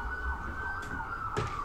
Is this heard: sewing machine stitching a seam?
no